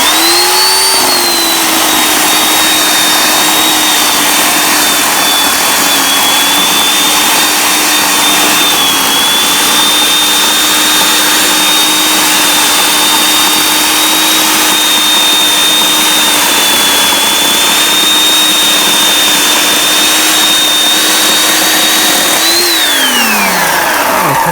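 An electric chainsaw runs loud and close for over twenty seconds, a steady high whine with slight pitch dips as it bites into wood, then winding down at the end.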